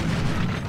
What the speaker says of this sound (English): this one throws bombs into me there and then explodes